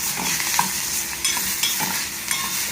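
Masoor dal tempering sautés in a hot pan with a continuous oily sizzle and occasional spatula scrapes, close and steady, with no voices.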